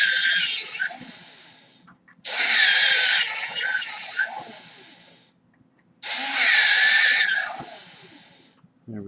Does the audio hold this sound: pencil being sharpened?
yes